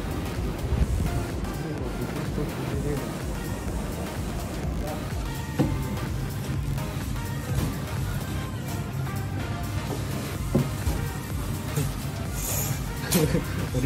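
Waterfall at Yoro Falls, a dense, continuous roar of rushing water, loud and close, with people talking faintly underneath.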